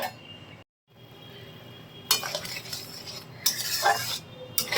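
A spice mixture with yogurt is stirred and fried in a pan: a spoon scrapes and clinks in short bursts against the metal, with a faint sizzle underneath.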